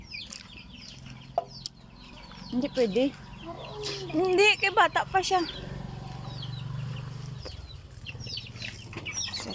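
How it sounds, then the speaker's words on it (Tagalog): Farm chickens cluck in several rising, bursty calls, close and fairly loud, with a brief flutter of wings, while people talk nearby. "Ito, mga manok."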